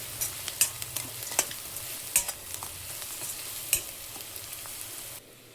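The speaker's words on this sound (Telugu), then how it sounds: "కలిపేసుకుందాం." Turmeric being stirred into fried onions in a pan for a fish curry, giving a steady close sizzle broken by repeated sharp scraping strokes of the spoon, with no talking.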